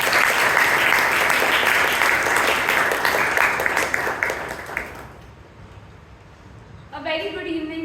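A Toastmasters club audience gives a steady round of applause for about five seconds, dense and fairly loud, then it dies away and a voice begins speaking.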